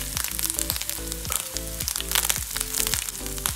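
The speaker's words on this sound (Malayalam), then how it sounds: "നല്ല കൊട്ടലും ചീറ്റലൊക്കെ ഉണ്ട് കേട്ടോ." Grated coconut, cumin and chopped shallots fry in hot oil in a pan, sizzling continuously with rapid popping and spluttering bursts, close and fairly loud, with no voices.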